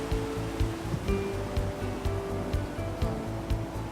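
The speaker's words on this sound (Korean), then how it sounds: "운치를 더하는 파도 소리." Sea waves wash against the shore at night beside Yeongildae, a seaside pavilion in Pohang, in winter. The surf is a steady broadband roar, with soft rhythmic surges and no voices.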